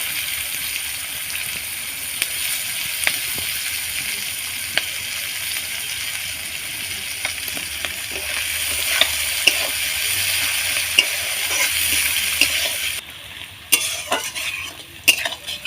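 Chopped onion and green chilli frying in leftover fish oil in a pan, a loud steady hiss with light stirring clicks throughout, the sizzle dropping off near the end as utensil taps take over.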